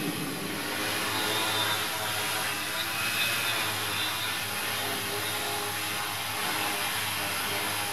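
A Tarot Iron Man 650 multirotor drone on its first flight with a Pixhawk PX4 controller hovers nearby, its steady whining rotor drone filling the scene with a constant, unbroken buzz.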